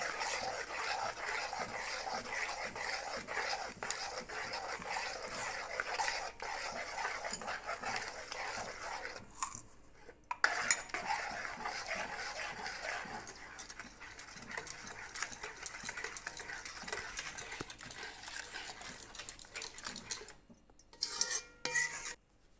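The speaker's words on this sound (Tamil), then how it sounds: "சர்க்கரை போட்டு அப்படி கிண்டி விட்டே இருக்கிறோம்." A spoon stirs beetroot halwa with sugar in a pan, making soft, rhythmic scraping and rubbing sounds that continue for over twenty seconds, with two brief pauses.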